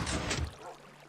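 Water in a Minecraft pumpkin farm closes and rushes away, a brief loud whooshing splash lasting under half a second before trailing off into a faint hum.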